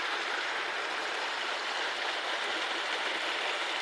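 A small mountain stream flows in a steady, even rush of water, constant and moderately close, with no voices or other sounds.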